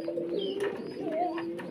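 A female Lahori pigeon coos close by in a soft, steady, wavering tone, with a faint rising note near the end and no talking.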